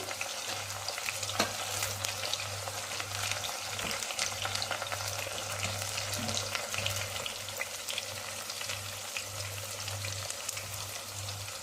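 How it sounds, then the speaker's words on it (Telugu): Curry leaves fry with browned onions in oil for tomato chutney, a steady close sizzle and crackle running throughout with occasional stirring clinks and no talking. "ఇప్పుడు కొంచెం మన ఎర్రగడ్డలు కలర్ మారిన తర్వాత దాంట్లో మనము కరివేపాకు యాడ్ చేద్దాము"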